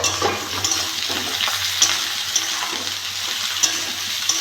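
Potatoes and eggplant fry in hot oil in a pan, sizzling steadily throughout with scattered crackles and pops and soft scraping as the pieces are stirred, and there is no talking.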